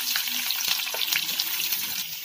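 Lengthwise-sliced onions sauté to golden brown in a pan for beetroot rice, giving a steady, close, dense sizzle with small crackles and occasional stirring scrapes, with no voices.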